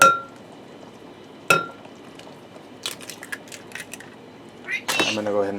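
Two eggs cracked into packaged cornbread mix with milk: two sharp taps a second and a half apart, then soft drips and clattering in the bowl, ending with a busier clatter as someone starts speaking.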